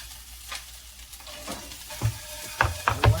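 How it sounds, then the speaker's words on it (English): Carrots sizzle steadily in a hot skillet, a soft continuous hiss broken by a few louder clattering stirs and scrapes toward the end, with no voices. "I'm gonna go ahead and put these carrots into the skillet"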